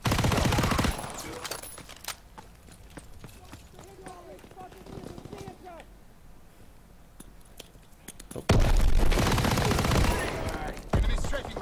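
Submachine gun fire in the World War II shooter game Call of Duty WW2, with loud bursts of rapid shots at the start and again near the end, separated by a quieter stretch of scattered battle noise.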